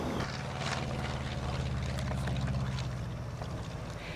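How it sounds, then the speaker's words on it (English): Propeller aircraft approaching and touching down on landing, a steady loud engine and airscrew drone holding throughout with little change in level. "Chalkie's aircraft came into view, touching down 12 seconds later and entering the record books"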